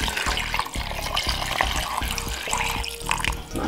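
Water pours steadily into a blender jar holding apple, beetroot, ginger, lemon juice and honey, a continuous close splashing and gurgling with no voices.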